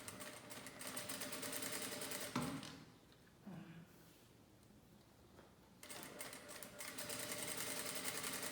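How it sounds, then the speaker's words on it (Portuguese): Sewing machine stitching a safety seam on a toiletry bag: rapid, close mechanical needle chatter in steady bursts, pausing briefly in the middle before resuming at a brisk even pace. "Então, eu vou passar uma costurinha aqui. Uma costura de segurança."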